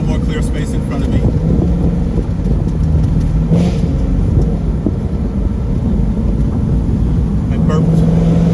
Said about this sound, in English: I burped the engine by doing a downshift to see if that could send a little hint.